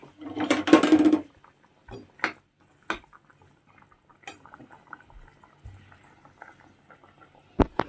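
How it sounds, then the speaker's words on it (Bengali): Fish curry boils in a pot: a short burst of bubbling at the start, then sparse soft pops and faint clinks in an otherwise quiet kitchen. "আর এই যে মাছের ঝোল ফুটছে"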